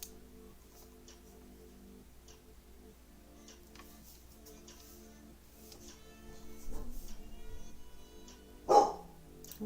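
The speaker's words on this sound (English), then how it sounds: "What are you two barking at?" Two dogs barking indoors at night, mostly faint and distant over a low household hum, with a sharper, closer bark near the end.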